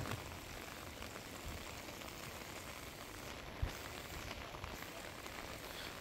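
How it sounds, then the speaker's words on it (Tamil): Steady rain falling in Jaffna, a soft continuous hiss of drops on surfaces outdoors, fairly faint and unbroken, with a small knock partway through. "பிறகு வந்து இப்போ திருப்பி மழை பெய்ய தொடங்கிட்டுது"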